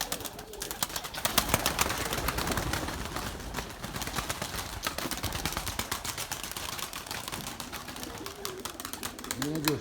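Pigeons coo and flap their wings as they take off from a rooftop loft, a steady busy flutter of wingbeats and bird sounds throughout, with a voice talking briefly.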